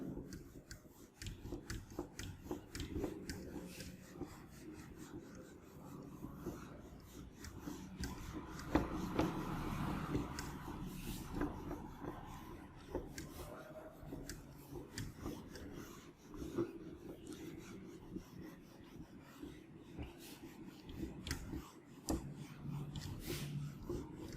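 Erasing chalk or marker from a classroom board during an organic chemistry lecture, a soft, steady rubbing and rasping that runs on quietly and closely, with faint pauses.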